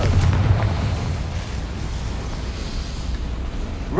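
A Confringo fire spell in Hogwarts Legacy goes off as a loud, rumbling fiery explosion at the start, then settles into a sustained crackling roar that slowly fades over a few seconds.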